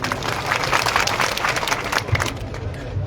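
Applause and crowd noise at an election rally, a steady mass of clapping for about three seconds with murmuring voices under it.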